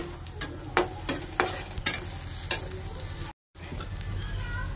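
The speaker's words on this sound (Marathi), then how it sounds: "2 ते 3 मिनिटे कांदा परतल्यावर हळद पाव टीस्पून आणि बारीक ठेचलेला लसूण घालायचा आहे." Onion, turmeric and crushed garlic sizzle in hot oil in a pan, a steady close frying hiss broken by several sharp stirring scrapes and knocks.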